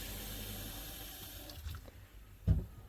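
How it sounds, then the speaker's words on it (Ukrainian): Steady broadband rush of water running from a sink tap in a homemade motorhome, fairly quiet and continuous, with a brief louder splash or knock near the end. "мийка, холодна та гаряча вода"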